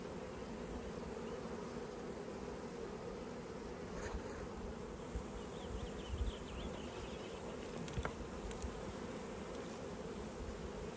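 Honey bees swarm around a queen in a hive, making a dense, steady, close buzzing hum that fills the whole stretch with only faint scattered knocks beneath it.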